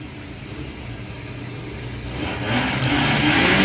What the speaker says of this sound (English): So Nigel Hull running in the 4-cylinder class.